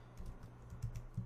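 Computer keyboard typing on a Windows PC, a quick run of soft key clicks with a few louder keystrokes near the end, close and alone with no talking.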